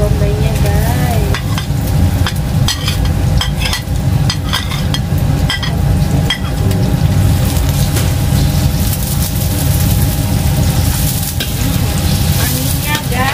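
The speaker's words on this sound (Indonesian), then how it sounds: "kita masukkan bawang bombaynya guys" Onions for Javanese fried noodles and egg opor going into a hot frying pan: a loud, continuous close sizzle with steady crackle and occasional spatula scrapes, no pauses.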